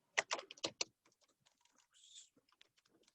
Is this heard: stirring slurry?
no